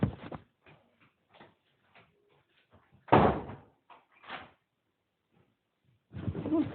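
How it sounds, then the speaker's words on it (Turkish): A door shuts indoors with a few knocks and bumps, one loud thud standing out among quieter clicks and handling noises. "kapıyı kapatayım"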